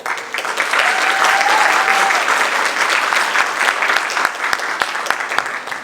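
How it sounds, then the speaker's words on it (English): An audience at the Korea Corner grand opening applauds the Embassy of the Republic of Korea in Romania, with steady massed clapping building quickly and holding strong, faint voices mixed in. "please greet with a great round of applause the Embassy of the Republic of Korea"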